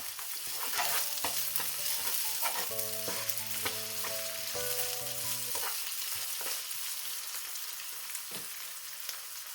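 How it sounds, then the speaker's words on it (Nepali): Cooked onions with a spoonful of garlic-ginger paste being stirred in a pan for parwal curry, steady frying sizzle under brisk spatula scrapes and clanks that taper off to a calmer hiss, no voices. "चलाइदिउँ।"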